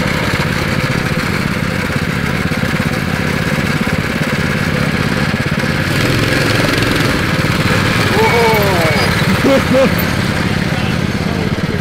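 Engines of a homemade three-engine, three-seat mini bike run steadily at a loud, continuous idle throughout, with people talking over the drone.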